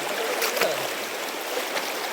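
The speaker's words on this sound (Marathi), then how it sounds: "ही नदी आहे, त्या नदीतून जायचं आहे पुढं" A forest river rushes past at a crossing point, giving a steady, close hiss of flowing water with soft gurgles, with no voices.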